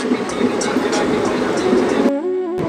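A Bamanhat DEMU local train rumbles through a forest: a steady, loud clatter of rolling coaches, then a brief tonal horn blast near the end.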